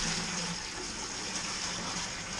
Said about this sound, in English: We're going to add a little of the cold water to the bucket,